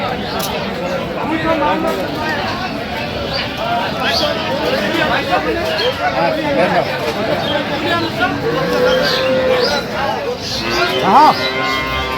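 Dairy cows and a calf of an improved milk breed low repeatedly at a busy cattle market in Dinajpur, with crowd chatter and bargaining voices throughout.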